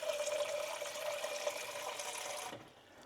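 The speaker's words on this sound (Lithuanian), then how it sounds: "įsipilu 200-250 ml vandens" Water is poured into a container for a banana protein shake, a faint, steady trickling stream that stops near the end, heard alone at close range.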